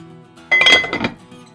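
A metal lid set onto a cooking pot during chicken curry prep, one bright clinking clatter with a brief ringing tone, close and clear with no talk.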